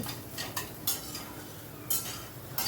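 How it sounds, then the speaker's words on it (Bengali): Egg frying in a pan over medium-high flame while being stirred constantly, with soft sizzle under repeated scraping and clinks of a utensil against the pan, fairly quiet and close. "ডিমটাকে ভালো করে আমি ভেজে নিচ্ছি যাতে আঁশটে গন্ধ না থাকে"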